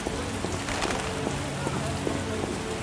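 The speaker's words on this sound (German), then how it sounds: "Was für ein Wolkenbruch. Eine Geißel der Götter, dieser Regen." Heavy rain in The Witcher video game pours down in a dense, steady hiss, with scattered louder drops spattering throughout.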